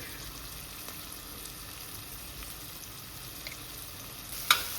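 Onions sizzle quietly as they sauté in a pan, a faint, steady crackle with one brief louder clink near the end.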